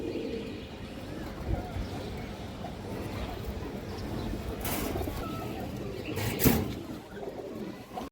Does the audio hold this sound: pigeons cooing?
yes